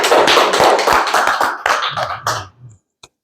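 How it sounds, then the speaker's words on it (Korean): An indoor audience gives brisk applause, a dense patter of many clapping hands that fades out over about two and a half seconds, followed by one faint tap. "박수 한번 쳐주시죠"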